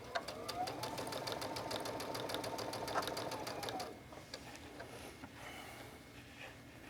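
Sewing machine stitching in the ditch on a packing case project, a fast even needle rattle for about four seconds that then stops, leaving quiet handling sounds.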